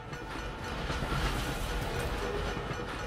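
A train passes in the video game Dishonored, giving a steady, dense rumble with faint rhythmic clatter that holds at an even loudness throughout, with no voices.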